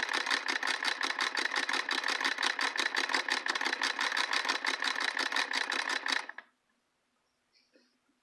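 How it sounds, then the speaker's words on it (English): A Singer Model 20 sewing machine stitches through batting in a fast, steady mechanical clatter of rapid repeated needle strokes for about six seconds, then stops. Faint small sounds follow in near silence. "it is sewing just fine"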